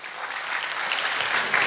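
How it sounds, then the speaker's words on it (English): Audience applause for the panelists at a skill-up panel discussion, a steady wash of many hands clapping that holds evenly loud for the whole stretch, with no talk over it. "a huge round of applause for our panelists"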